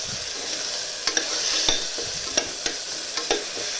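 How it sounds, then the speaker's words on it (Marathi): Onion-tomato and ginger-garlic paste sizzles in oil under repeated scraping stirs, a spoon knocking against the pan several times at an irregular pace, close by. "चांगले तेलामध्ये परतू द्यायची."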